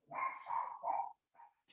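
A female dog barks three times in quick succession, fairly close, followed by a softer short bark after a brief pause.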